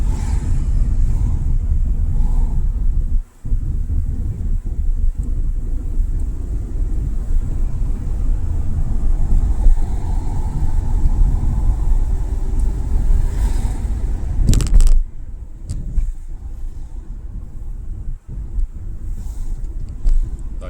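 A car driving along a town road on a driving test route in Bila Tserkva, a steady loud engine and road rumble with wind buffeting, plus a sharp brief clatter partway through.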